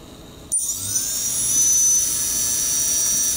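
Quadcopter brushless motor spinning up during ESC calibration on a Blackout Mini H quad, a sudden start followed by a high whining drone that rises in pitch and holds, close and loud.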